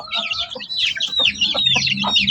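Native chickens and their month-old chicks cluck and cheep close by, with high chirps over lower clucks in a busy, continuous flock chatter.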